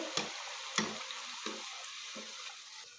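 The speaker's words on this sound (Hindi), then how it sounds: "अब यहाँ से भी अच्छी तरह हम गोल्डन फ्राई कर लेंगे" Raw grated potato balls frying in oil in a pan over high flame, a steady crackling sizzle with a few sharp pops and spatters, close and fairly quiet.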